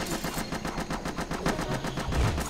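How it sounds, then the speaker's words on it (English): Rapid, rhythmic bursts of laser gunfire from the video game Tiny Zombie Horde, a dense continuous volley of repeated shots that stays loud and close throughout, with no talk over it. "I'm being shot by a laser?"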